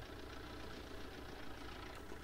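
A tractor engine idling with the handbrake on in Farming Simulator 19, a steady, close, low rumbling drone with no talking.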